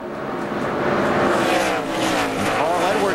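NASCAR stock cars, including the No. 99 Office Depot Ford, roar around the track in a dense, continuous engine drone with shifting pitch as several cars pass close by, with faint commentary underneath.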